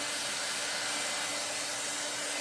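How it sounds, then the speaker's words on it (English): A regular hair dryer set to high blows as it heats electric unicycle pedal grip tape, a loud, steady, close whooshing roar with a faint constant whine and no variation. "You take a regular hair dryer, found this in the garbage, set it to high, turn it on,"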